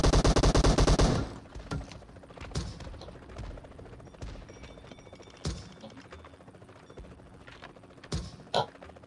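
Gunfire in PUBG Mobile, heavy weapons mode: a dense loud burst of automatic fire at the start, then scattered single shots and short cracks at varying distances.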